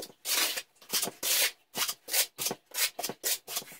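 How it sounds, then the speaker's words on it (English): A trowel scrapes excess tile adhesive at a 45-degree angle while a floor is being tiled, making a series of short, rough rasping strokes in an uneven rhythm, close and moderately loud. "I want to take the trowel at about a 45-degree angle, kind of just scrape off any excess on here"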